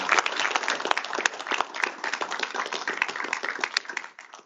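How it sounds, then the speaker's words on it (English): An audience applauds at a Williston State College capital projects event, a dense, steady round of many hands clapping that carries on for several seconds before fading toward the end. "I think we should all give them a round of applause for all the support that he's given."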